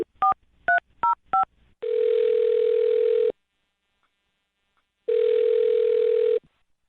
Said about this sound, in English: I'll dial her number right now, see if we can get her on the phone.